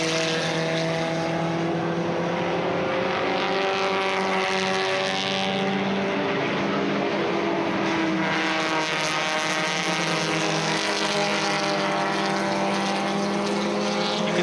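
Race car at full pace around the Laguna Seca circuit, its engine droning loud and continuous with steady harmonic whine rising and falling through gear changes and corners across the whole fast lap.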